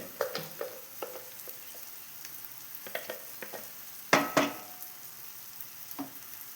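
Tomato chutney being sautéed and stirred in a pan, with scattered scraping and clinking strokes over a soft sizzle, including one louder pair of knocks midway, all close and without talk.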